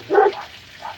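A dog barks once, loud and close, inside a truck camper, followed by a softer, brief whine or yip a moment later.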